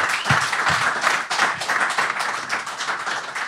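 Applause from a small gathering at a horse racing preview event, brisk overlapping hand claps of moderate loudness with a few distinct sharper claps near the start, continuing steadily.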